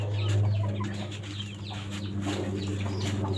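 A rooster of just over two kilos, kept in a broiler coop, clucks in short repeated bursts over a steady low hum, fairly faint and close by.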